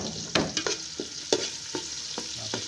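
Ginger, garlic and onion sauté in a hot pan with a bright, continuous sizzle, punctuated by about eight sharp scrapes and knocks of a spatula stirring, close and alone without voices.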